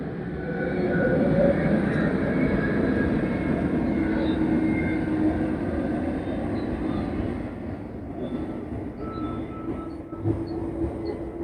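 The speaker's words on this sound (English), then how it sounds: "That's a jet going over top." A jet aircraft passes overhead outdoors, a broad, steady roaring rumble that holds, then gradually thins and fades toward the end.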